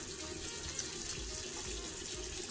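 Water running steadily from a bathroom tap as it warms up before face washing, a continuous close splashing rush with no talk.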